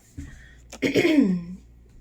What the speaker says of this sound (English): I've caught a little bug, so I'm gonna cough a lot during this or clear my throat